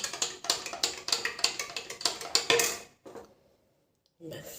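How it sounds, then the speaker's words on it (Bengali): A spoon stirring warm lemon water in a glass, a quick rhythmic run of clinking taps that stops abruptly, followed by a short silence and then a brief return of sound. "এবার ভালো করে নাড়িয়ে নেব।"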